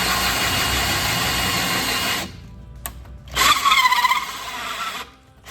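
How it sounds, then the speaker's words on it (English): A freshly sharpened hole saw chucked in a drill runs at speed, then bites into wood with a whining, grinding cut that surges and wavers before the drill stops. "I'm going to test this hole saw now in this drill"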